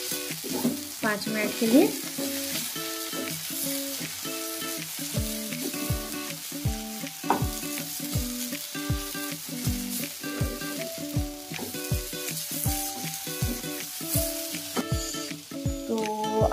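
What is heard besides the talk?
roasting halwa ingredients in oil while stirring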